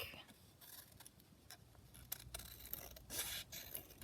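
Scissors snip through paper while cutting out a piece for a folding booklet-style tag with pockets, a quiet string of close crisp cuts and rustles.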